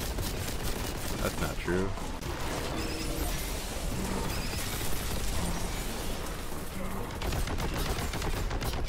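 Rapid, heavy bolt gun fire from the video game Boltgun hammers on without a break, loud and close, with a voice talking over the shooting.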